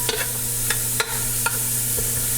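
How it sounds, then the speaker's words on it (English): Chopped onion sautéing in a pan for a fall soup gives a steady close sizzle, broken by a few soft clicks and scrapes as it is stirred. "So I'm putting in some onion now, and I'm going to saute this up a little bit"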